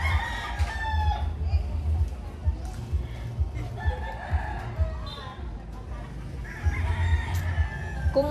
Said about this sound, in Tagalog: May manok din.